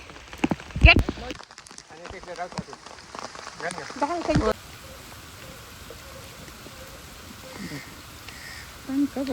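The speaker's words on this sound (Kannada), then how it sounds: "ಮಳೆ ಬರ್ತಾ ಉಂಟು" Rain patters steadily beside the Kemmannu River while people talk and call out; a crow caws, and the rain continues more evenly after the voices fade.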